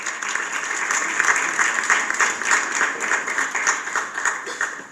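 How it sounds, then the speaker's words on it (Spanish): Sustained applause from a theatre audience at a journalism awards ceremony, dense steady clapping from many hands filling the hall at an even level, without any voice above it. "Giovanni Benavides, aplauso para él también."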